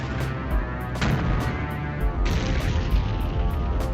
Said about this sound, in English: All you need to do is practice where to shoot your tank and see the shots and how they shoot